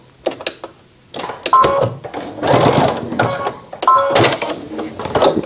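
A sewing machine stitches close to the edge of a fabric face mask, running in several short loud bursts with brief pauses and clicks between them.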